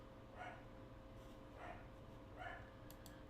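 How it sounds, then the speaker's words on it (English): A dog barks across the street: three faint, distant barks spaced about a second apart over a steady low background hum. "It's got to be a dog across the street or something"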